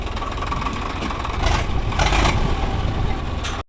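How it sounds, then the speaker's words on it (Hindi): A tractor engine runs at a cow shelter while dung is cleared, a steady mid-pitched idle that swells louder midway as it works, close by and without speech. "इस तरह से इनका गोबर जो है साफ किया जाता है ट्रैक्टर के साथ।"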